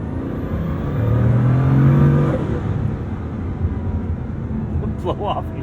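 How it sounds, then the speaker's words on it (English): Bugatti Chiron Super Sport quad-turbo W16 engine winding down from a pull, with a rushing turbo blow-off whoosh and descending whine heard from inside the cabin, fading to a low steady hum with faint clicks at the end. "The blow-off noise is phenomenal."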